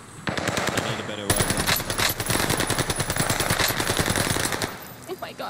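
Sustained video game gunfire rips out in loud, rapid automatic bursts, close and continuous for several seconds before tapering into a few scattered shots.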